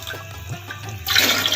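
Water gushes into a cooking pot holding rice for Afghani Kabuli pulao, a short, close, splashing pour that swells louder partway through.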